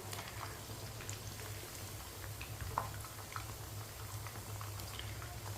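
Chicken pieces deep-frying in hot oil in a pan, a steady dense sizzle and bubbling that holds evenly throughout with scattered small pops, close and moderately loud, with no talking.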